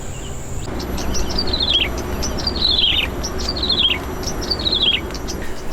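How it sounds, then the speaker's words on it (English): Small birds chirp along a rail corridor trail, four clear descending twittering phrases repeating about once a second over steady outdoor ambience, fairly close and distinct. "You can hear a family of little birds just in there."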